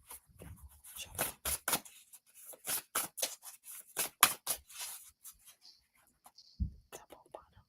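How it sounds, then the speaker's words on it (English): Rapid papery riffling and flicking of shuffled cards, in bursts of crisp snaps, close and quiet, with soft whispering mixed in. "Should I shuffle again? Shuffle."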